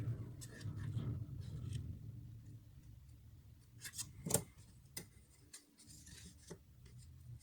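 Scissors snipping along the fold of a paper card while making a simple pop-up craft card, giving a few crisp close cuts and light rustles over a quiet room background.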